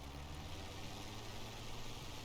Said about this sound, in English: So this is the Mark 22 with the Merlin engine.